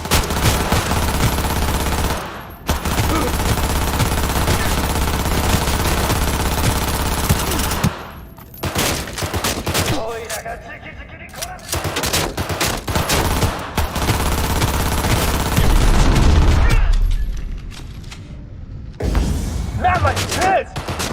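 Sustained automatic gunfire roars through a Cyberpunk 2077 firefight, loud and close in long bursts broken by brief pauses, with thuds, mechanical clatter and shouted voices mixed in.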